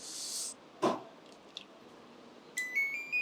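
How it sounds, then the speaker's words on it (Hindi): A buzzer on an LG air conditioner outdoor unit's circuit board sounds in a repair setting, with short electronic beeps among faint clicks and handling noise, quiet and close, no talk. "देखिए बजर बज गया हमारा"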